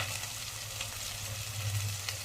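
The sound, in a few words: spices frying in oil for mutton curry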